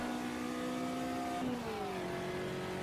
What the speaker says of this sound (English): I'll shut up for a few seconds so you can have a listen to the Fusca